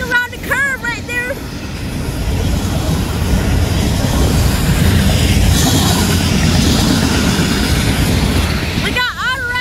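FEC freight train hauling auto racks rolls around a curve, a broad rising rumble and rattle of cars that swells and holds. Horn-like tonal calls sound briefly at the start and end, with a voice talking over it.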